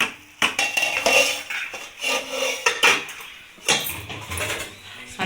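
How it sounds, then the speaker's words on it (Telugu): A lid goes onto a pot of gravy amid close metallic clatter of cookware, with several sharp clinks and scrapes spread over a few seconds in a busy kitchen. "ఇప్పుడైతే ఇంకా మూత పెట్టి ఒక ఫైవ్ మినిట్స్ అలా వదిలేద్దాం"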